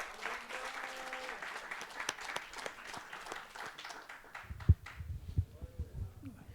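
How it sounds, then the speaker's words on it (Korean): Applause for a traditional Korean sori performance team at an awards ceremony, quiet and scattered clapping from a modest audience, fading near the end as some low handling noise comes in. "우리 멋진 공연을 해주신 우리 소리팀에게 다시 한번 큰 박수 부탁드리겠습니다"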